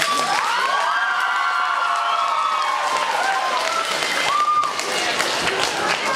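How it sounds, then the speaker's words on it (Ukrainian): Lyceum beauty pageant audience applauding and cheering for a contestant, loud sustained clapping mixed with high-pitched shouts and whoops from a lively young crowd, continuous for several seconds. "Я чекаю оплесків до міст ліцею."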